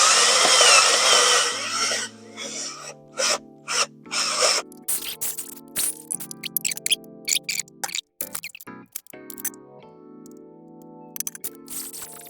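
A cordless drill fitted with a dough hook kneads thick dough, its motor whirring in short bursts that speed up, bog down and stop, with faint ratcheting and scraping between runs.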